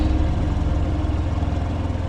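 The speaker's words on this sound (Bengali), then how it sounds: "বাইক চালানোর ভটভট আওয়াজ।" Steady low motorbike engine putt-putt, a continuous close rumble with a regular pulsing beat held throughout, no voices.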